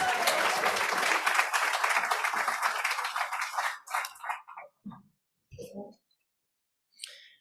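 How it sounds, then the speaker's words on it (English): Crowd applause at a collegiate alumni awards ceremony, a dense burst of clapping that stops after about four seconds, leaving a few isolated claps and quiet clicks. "Let's give him a round of applause"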